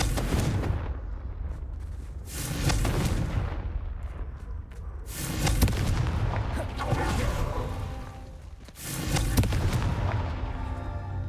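Confringo spell blasts from Hogwarts Legacy boom repeatedly, several heavy explosive bursts spaced a few seconds apart, rumbling and loud with little pause between them.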